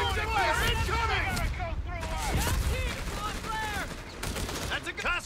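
Gunfire in the Company of Heroes 3 war game, a 3v3 battle with US forces: scattered bursts of rifle and machine-gun fire at moderate distance, mixed with soldiers' voices calling out orders over the shooting.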